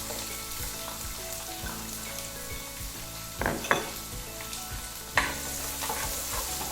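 Cumin seeds and chopped onion fry in oil with a steady sizzle, punctuated by a few clacks of a utensil stirring against the pan.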